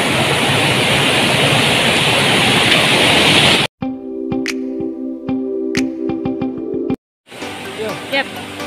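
River water rushing loudly at a village bathing spot, a dense roaring wash that cuts off abruptly, giving way to quieter sounds and a voice, then returning briefly at the end.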